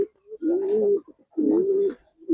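Giribaz and coloring pigeons give two long, close, mellow coos, separated by a short pause and followed by the start of a third, with no speech.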